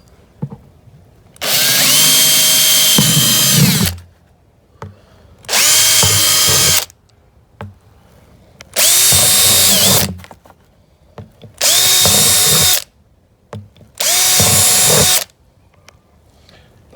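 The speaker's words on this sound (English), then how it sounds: "You want to get yourself a drill, a bigger drill bit." A power drill with a large bit whirs loudly five times in separate bursts, each a few seconds long with short quiet gaps, drilling drainage holes in a plant pot close by.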